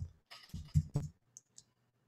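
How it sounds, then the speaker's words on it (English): A few light clicks of keys typed on a computer keyboard, close and quiet: a quick cluster of taps followed by two softer isolated clicks against near silence. "If I type Kyra,"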